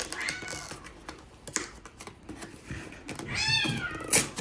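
A cat meows several times in short, close calls during an unboxing of a Pokemon advent calendar, with light tapping and rustling of the box in between.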